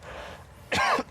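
A single short, harsh cough or throat-clear from a man after smoking, close and loud, following a stretch of quiet room tone.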